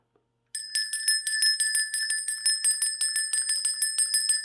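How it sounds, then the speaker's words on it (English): A bell rung for spiritual cleansing starts after a short silence and rings on continuously, bright sustained metallic tones pulsing in a quick tremolo rhythm, loud and close. "you can simply cleanse with a bell, with sound"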